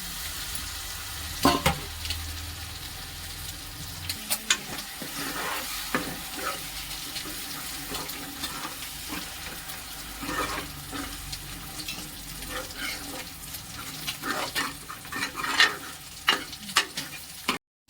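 Chicken pieces frying in a pan for a chicken curry, with a steady sizzle under repeated scrapes and clatters of stirring, close and fairly loud throughout.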